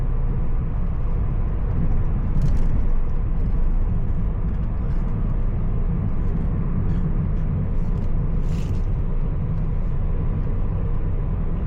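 A car drives through heavy night traffic in Riyadh, giving a continuous low engine and road rumble with faint passing-vehicle noise and a couple of brief higher hisses, no talk.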